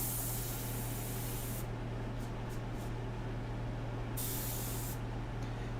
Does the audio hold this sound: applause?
no